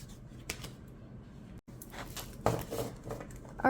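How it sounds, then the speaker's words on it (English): A large oracle card deck is shuffled by hand, soft papery riffling and patting in short bursts with a few louder slaps, close and fairly quiet with no talk. "let's see if I can shuffle it this way"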